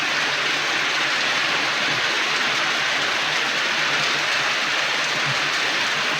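Steady rain pours down outside an office, a dense even hiss of falling water that holds constant throughout with no voices.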